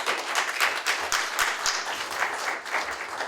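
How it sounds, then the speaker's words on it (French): Congregation applauding for a pastor at a church service, a steady dense wash of clapping hands lasting the whole moment with no voices over it. "On va encore applaudir pour le pasteur Pierre."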